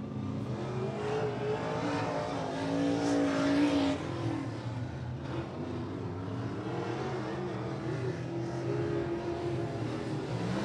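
Race cars roll out onto the Rockcastle Speedway track for weekly division qualifying, several engines droning and revving steadily together at moderate distance, with one brief louder surge.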